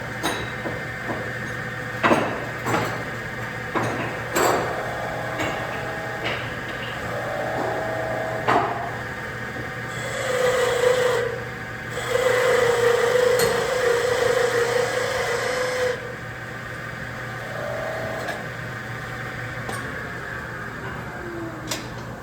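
A V-shaped carving tool cuts into wood in scattered scraping strokes, with a longer gritty pass midway and occasional sharp knocks over a low steady room hum.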